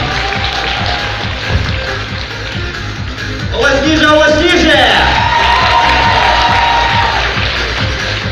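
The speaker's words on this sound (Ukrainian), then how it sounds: "оплески нашим учасникам" Spectators at a kettlebell juggling show in Kropyvnytskyi break into loud cheering, whoops and shouts partway through, swelling over a steady background of crowd noise and a commentator's voice.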